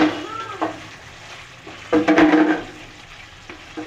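Roasted paneer masala sizzles softly in a pan while being sautéed and stirred, with scraping spoon strokes and a louder burst of frying near the middle.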